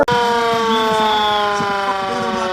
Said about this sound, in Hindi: सबको पता है कि ये खतरे का सायरन है